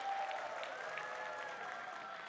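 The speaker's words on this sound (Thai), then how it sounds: "ทุกท่านคะปรบมือให้กับอะโทมี่เฮโมฮีมหน่อยค่ะ" Audience applause at a product presentation for a health supplement, a soft continuous wash of many hands clapping at a distance.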